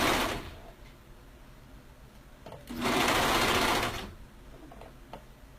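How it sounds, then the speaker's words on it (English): A serger overlock sewing machine stitching fabric for upcycled shirts, running close and loud in two short bursts separated by a steady quieter hum. "Again, I'm only using my serger because it's easier and quicker for me."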